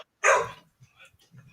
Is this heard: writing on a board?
no